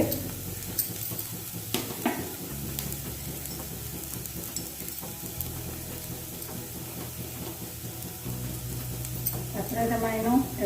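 Onion fries in a pan with turmeric, giving a continuous sizzle under scraping stirring strokes, with a voice briefly heard near the end.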